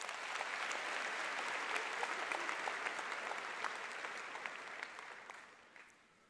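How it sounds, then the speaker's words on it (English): An audience at a university welcoming event gives a sustained round of applause, fairly distant and soft, tapering off to quiet at the end. "they deserve one more round of applause"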